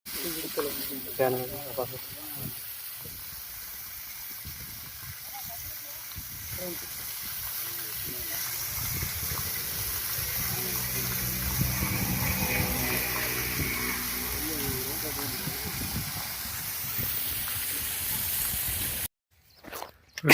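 A 3hp Versil solar pump on a cotton farm in Kallakurichi pushes out water with a steady rushing hiss, while people talk over it throughout.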